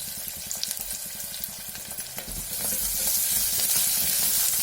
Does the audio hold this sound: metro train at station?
no